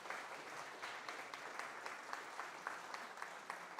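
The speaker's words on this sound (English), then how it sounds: "So I will ask for a big, massive round of applause for our gold sponsors, Pleo, Piano, and Morstade." Audience applause for conference sponsors fills the room as a steady, dense patter of many hands clapping. It sounds moderately distant and carries on continuously throughout, with no talking over it.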